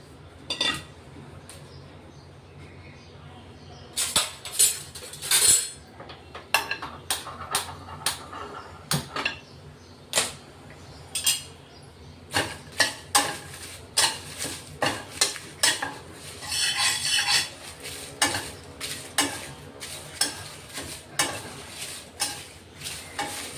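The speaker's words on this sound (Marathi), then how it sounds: "तेजपानही भाजून घेऊ थोडं।" Bay leaves dry roasted in a pan while making coriander powder, with repeated close scraping and stirring clatters against the metal pan in uneven bursts, no talk.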